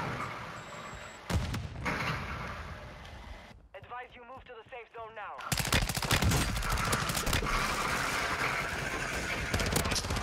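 Gunfire in Call of Duty Warzone on Ashika Island, with rapid, dense bursts of automatic fire up close. A short lull falls in the middle before the heavy shooting resumes, and voices can be heard in the game mix.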